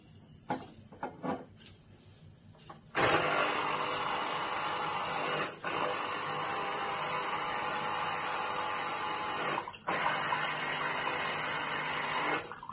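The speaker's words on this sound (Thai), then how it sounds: "น้ำไหลพี่น้อง" Water pours in a steady, loud rush, cutting off briefly twice before resuming, after a few quiet clicks and bumps at the start.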